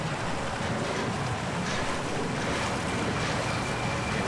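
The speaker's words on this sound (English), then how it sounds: "It's the water coming in." Water flooding in through a door in the Cryostasis game, a loud, steady rushing roar like a torrent with no breaks and no voices.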